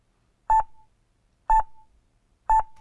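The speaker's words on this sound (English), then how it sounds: "this will result in a much clearer, more present kind of beep noise that I can use" Three identical short electronic beep tones, edited in Audacity, sound at an even one-second spacing, each a clean mid-pitched tone with a faint trailing ring, against complete silence.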